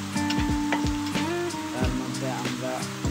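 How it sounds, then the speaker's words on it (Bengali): Onions frying in oil give a close, steady sizzle, with a voice talking over it throughout. "পেঁয়াজ ভাজার পরে একটু ভালোভাবে ভেজে নিব পেঁয়াজটা"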